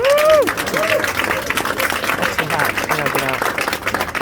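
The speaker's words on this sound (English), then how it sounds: "Let's just give a round of applause." An audience claps at a community gathering with a congresswoman honoring female Army service members, a steady mid-level patter of hands mixed with raised voices and a few whoops throughout.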